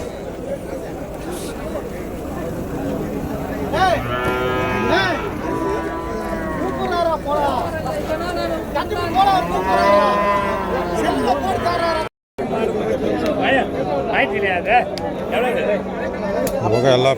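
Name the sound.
cattle mooing at a cattle market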